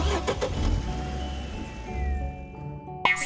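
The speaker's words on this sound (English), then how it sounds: "C is for car." A car engine cranks and catches, then revs and settles into a steady hum, close and alone, ending with a short sharp click.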